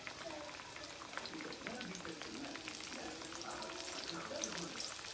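Breaded pickles frying in hot oil make a continuous bubbling sizzle that runs steadily under a person talking.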